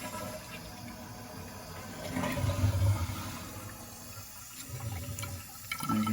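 A toilet fitted with a WolverineBrass Finale Pro Series fill valve flushes with a rushing, gurgling swell of water that builds midway and then settles into a steady trickle and refill.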